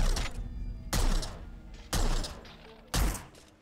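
Enemy gunfire in Hitman: Blood Money lands as four loud, evenly spaced blasts about a second apart, each with a short decaying tail.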